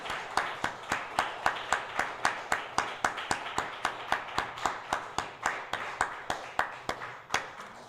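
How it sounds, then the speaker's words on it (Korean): A church congregation claps in unison to bless the children during a Sunday service, an even train of sharp synchronized claps at a steady brisk rhythm, about three per second, continuing for several seconds. "우리 교회는 들어왔다 나가서 앉을 때까지 박수 칩니다."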